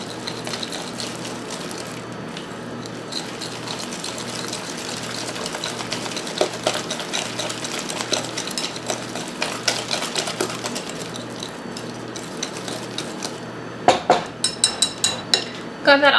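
Butter being mixed into a chili egg bite batter in a bowl, a continuous whirring mixer with wet sloshing, ending in a few sharp clatters against the bowl; talk is faintly present.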